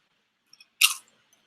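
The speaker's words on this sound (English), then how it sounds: "You hear the open mouth crunch." One sharp, brief crunch of potato chips bitten and chewed with the mouth open, close and crisp against near silence, with a few tiny clicks around it.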